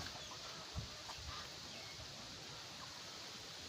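Brown Dekalb breeder chickens in a netted, hog-wire pen cluck faintly and sparsely, a few soft calls rising over a steady hiss of background noise.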